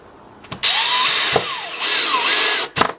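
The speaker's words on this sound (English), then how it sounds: "Screw this onto the gate." Power drill whirring in two long sustained bursts as it drives screws into a wooden garden gate, with brief clatter and handling knocks between and after the runs, close and fairly loud.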